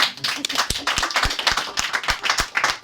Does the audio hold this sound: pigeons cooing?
no